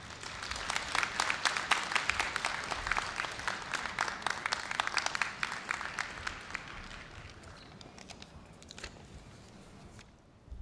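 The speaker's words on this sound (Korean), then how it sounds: "교우회 부회장님을 큰 박수로 맞아주시기 바랍니다" Applause from a seated audience at a Korea University graduation ceremony, a dense steady clapping held for several seconds and then thinning and tapering off, moderately distant in a large hall.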